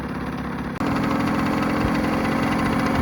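A 1987 Yamaha YSR50 two-stroke motorcycle idles close by with a steady, buzzy putter that jumps slightly in pitch and loudness after a brief dip, then holds even.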